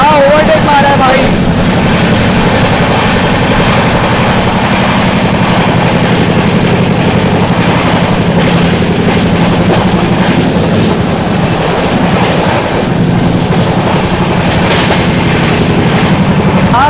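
The 12141 Patliputra SF Express overtakes at high speed in a loud, continuous rumbling roar of wheels and carriages that barely changes, heard close up with some talk mixed in.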